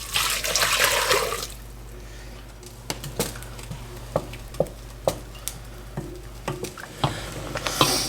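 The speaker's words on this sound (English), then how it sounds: "Here's our 4 cups of hot water." Four cups of hot water poured into a pot for redbud jelly, a brief rushing splash at first, then a series of separate drips and light clinks over a steady low hum.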